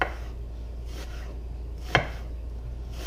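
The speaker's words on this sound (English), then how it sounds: "we're just gonna cut through these onions right here" A knife cuts through onions on a board: three separate crisp chops spaced about a second apart, close and clear over a steady low hum, with no talking.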